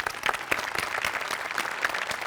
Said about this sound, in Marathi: तुमच्या सगळ्यांसाठी एकदा टाळ्या.